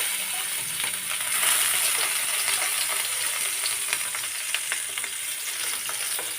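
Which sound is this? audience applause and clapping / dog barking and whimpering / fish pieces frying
fish pieces frying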